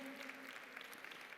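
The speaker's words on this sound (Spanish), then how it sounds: "Yo creo que las mujeres tienen que aplaudirse ustedes mismas" Thousands of women applaud at a church congress, a dense, even patter of clapping heard at a distance, steady and sustained with no single clap standing out.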